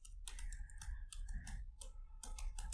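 A state name tapped out on a computer keyboard, a brisk run of close, crisp key clicks in uneven bursts with short pauses between them, over a low background hum.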